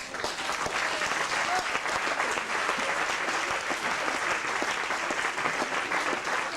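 A studio audience gives sustained, even applause on a French television show, a continuous dense roar of clapping at steady volume throughout.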